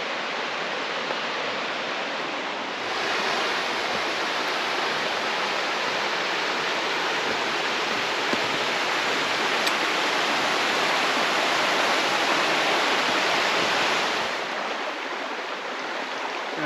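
Erskine Falls sends down a steady, full roar of falling water, loud and unbroken, swelling slightly for most of the stretch before easing near the end.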